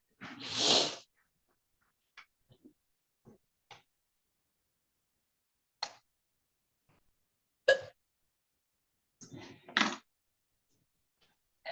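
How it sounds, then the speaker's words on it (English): Several short hiccups scattered through a quiet courtroom, the first louder and longer, the rest brief and spaced irregularly, with a faint voice or two between them. "Oh, we got the hiccups."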